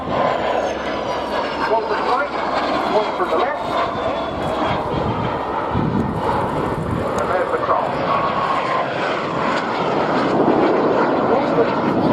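A BAC Strike Master jet flies at an air display at RNAS Yeovilton, its engine roar sustained and loud throughout while a commentator talks over it.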